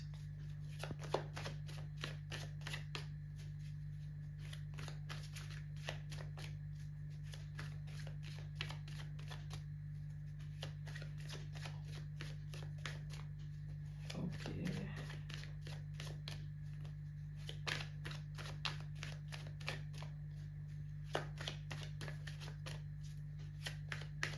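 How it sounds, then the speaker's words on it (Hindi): Tarot cards are shuffled continuously for a reading, a long run of quick, soft riffling flutters at close range over a steady low hum, with no voice. "जब तक मैं शफल कर रही हूँ कार्ड्स"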